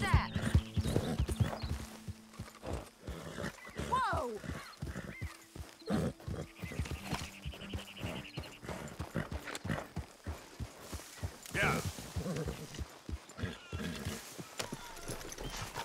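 Horse hooves clip-clopping in Red Dead Redemption 2, a steady rhythmic trot of close, clear hoofbeats with an occasional whinny and someone talking over it.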